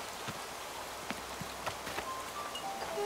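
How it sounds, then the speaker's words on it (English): Rain falling in the video game Animal Crossing New Horizons, a steady hiss of patter with occasional soft drops and faint tonal chimes, heard alone. "Too bad it's raining."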